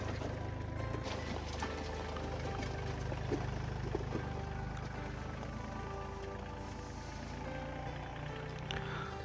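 A small tractor's engine runs steadily at a constant low pitch while doing farm work, a continuous mid-volume drone with no talk.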